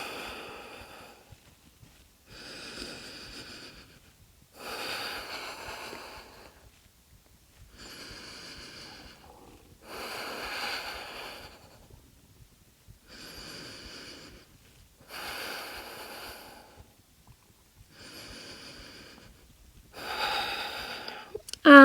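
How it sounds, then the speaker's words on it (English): Deep, audible breaths during a held pose in a heart-opening vinyasa yoga flow, about eight slow inhale-exhale cycles in a steady rhythm, each a breathy rush separated by short quiet pauses, close and clear with no talking. "We're just going to hold here for 5 deep breaths."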